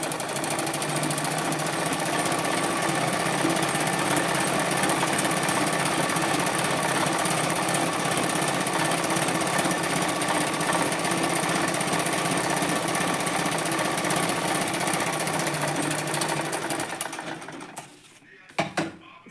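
Sewing machine running steadily and loudly while laying a fine stitch on a salwar, one unbroken whir that stops near the end with a couple of clicks.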